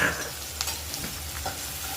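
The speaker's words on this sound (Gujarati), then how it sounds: "હવે આપણે પહેલાં જે ઓનિયન ચોપ કરી છે એને સાતળી લેવાનું છે." Chopped onions sautéing in a pan, a soft, steady sizzle with a few faint stirring scrapes, quiet and alone.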